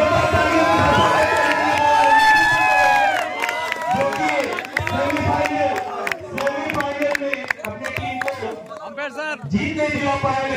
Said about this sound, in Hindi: मैं जोरदार तालियां बजा रहा हूं